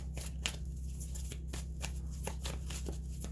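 Tarot cards being shuffled close by, a rapid papery riffling with sharp snaps repeating steadily over a low hum, no talking.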